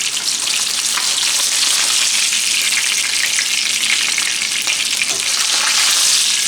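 Fish fries in hot oil with a loud, dense, unbroken sizzle, close up and steady throughout, with faint stirring touches and no voices.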